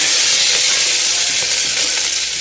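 Curry leaves frying in a pan of hot oil give a steady, loud, dense sizzle that holds without a break from start to finish.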